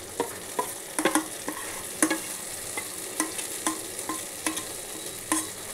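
Poppy seed paste stirred into a hot frying pan, with a spatula scraping and tapping in irregular bursts over a soft, steady sizzle, close and moderately loud.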